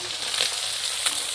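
Fish fries in a pan during home cooking in the Sundarbans, giving a steady, close, hissing sizzle with soft crackles, alone and without talk.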